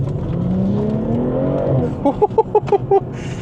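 A stage 1 tuned BMW M340i pulls hard away from a junction, its engine note climbing steadily and loudly, then giving way to a series of short, evenly spaced pulses near the end.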